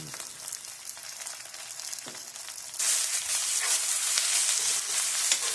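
A handful of spinach dropped into a hot pan, a soft hiss that jumps into a louder, bright, steady sizzle partway through and holds, close and continuous with no speech.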